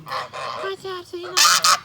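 Farm geese honking close by, a run of short nasal honks building to two loud blaring calls at the end, with a voice faintly present.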